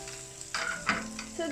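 French toast frying in a pan over high heat, a steady close sizzle with a few louder bursts of crackle and scraping as it settles in the oil.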